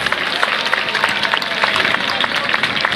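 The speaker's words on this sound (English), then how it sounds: "How about a nice big round of applause for the members of the Hackensack Fire Department" An outdoor crowd applauds members of a fire department engine and rescue company after a live drill, with dense, steady clapping that keeps a bright texture throughout.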